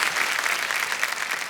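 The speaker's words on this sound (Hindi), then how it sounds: "हर बार घूमते हैं ताली बज जाती है।" A studio audience on the Kaun Banega Crorepati game-show set claps steadily in dense, continuous applause, close and fairly loud, with no voices over it.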